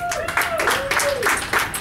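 Audience applause at a comedy showcase, scattered claps and cheers rising in bursts while a voice talks over them.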